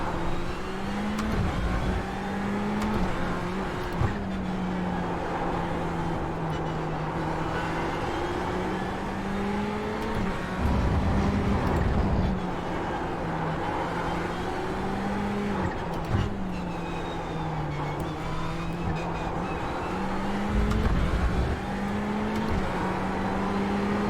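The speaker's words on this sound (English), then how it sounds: "All I can hear is Ferrari." A Ferrari engine revs and shifts repeatedly, its pitch climbing and dropping through gear changes in a sustained loud drone with occasional tire noise, close and continuous.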